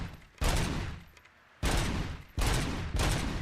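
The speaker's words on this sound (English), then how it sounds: "I just emptied her service weapon." Service-weapon gunfire in RoboCop: Rogue City, three loud, close bursts of shots with echoing tails between them, no voices.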